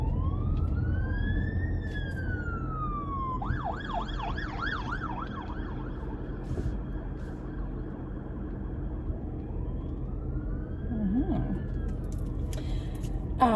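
A police siren wails up and down, shifting into a rapid yelp, then fades to a distant wail over low road rumble.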